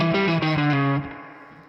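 Distorted electric guitar playing a slow blues lick: a quick run of picked, bent notes ending on a sustained note that rings out and fades, loud and close with no talking.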